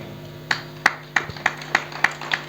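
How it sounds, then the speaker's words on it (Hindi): Sparse, uneven clapping from an audience at a Hindi speech event, about eight separate claps in a loose rhythm, fairly faint with a steady hum beneath. "ताली बजाओ तो ठीक से बजाया करो"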